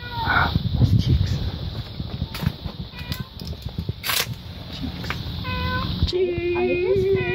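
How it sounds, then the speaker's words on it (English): A pet cat meows near a small birdhouse being built, short mews heard under and between people talking, with a longer rising call toward the end. "And I hear a cat. Is there a cat in there?"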